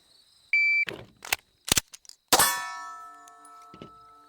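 A shot timer beeps once, then a pistol is picked up, its magazine is seated and the slide is racked using a FUD sling, giving sharp metallic clacks ending in a loud ringing clang, all close and with no talking.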